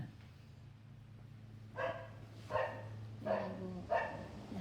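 A truffle hunting dog barks four times in a slow, spaced rhythm, fairly near, over a low steady hum in the background.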